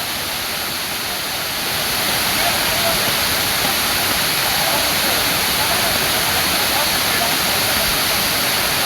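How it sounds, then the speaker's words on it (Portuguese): A waterfall roars steadily, a dense, even rush of falling water that starts slightly softer and then holds loud and unbroken throughout, with no other sounds standing out. "Cachoeira legal, ó."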